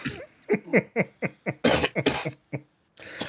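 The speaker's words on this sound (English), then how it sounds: "The Corona coughs." A bout of repeated coughing from one person during a podcast, about a dozen harsh bursts in quick succession, close and fairly loud, ending with a brief pause and a final rasp.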